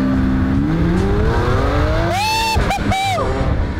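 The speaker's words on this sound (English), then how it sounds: "We put it in sport mode and we're about to do a takeoff." A Lamborghini Aventador S Roadster launches from a standstill in sport mode, its engine note climbing steadily in pitch through the revs before sharp gear changes, loud and close with a brief voice over the roar.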